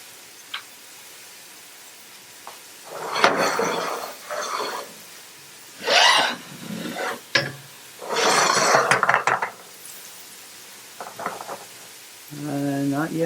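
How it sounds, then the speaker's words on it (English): Frying pans of potatoes get shifted on an off-grid homestead stove, with scraping and clattering metal bursts over a low background sizzle, separated by quieter pauses. "maybe I'll switch these frying pans just to see how those other ones are"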